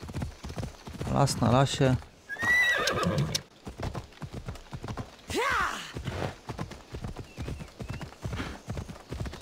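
Horse hooves clop at a walking pace through dense forest terrain in Assassin's Creed Odyssey, steady and close, with occasional neighs and whinnies while someone talks over much of it.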